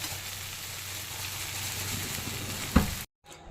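Masala frying in oil on a stove for fish curry, a steady soft sizzle heard close up, ending with a brief clunk before cutting out.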